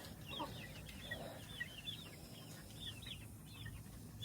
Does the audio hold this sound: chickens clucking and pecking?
yes